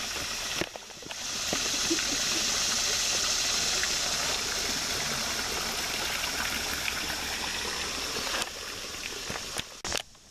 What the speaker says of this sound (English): little water trickle here.